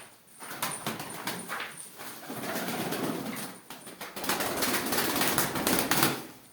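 Tumbler pigeons taking flight, bursts of sharp wing claps and flapping close by, coming in irregular clusters with brief pauses between flurries.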